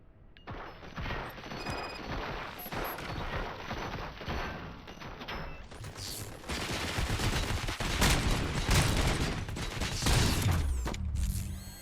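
Dense video-game gunfire from RoboCop: Rogue City crackles in rapid, overlapping bursts, a loud near fusillade that keeps going and grows heavier through the second half, with mechanical clatter mixed in.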